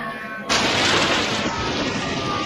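Thunder in a storm from an animated cartoon: a sudden loud crack followed by a long, rumbling roar that slowly fades, with no speech over it.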